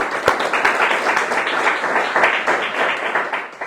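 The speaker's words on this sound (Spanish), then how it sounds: "Así que, un aplauso al Señor" A congregation at a church seminary class breaks into applause, a dense, steady wash of many hands clapping together for several seconds, fairly loud, before it thins out at the end.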